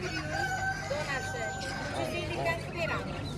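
Rooster crowing amid the bustle of a spring poultry market in Navoiy, a sustained call under steady crowd noise and nearby voices.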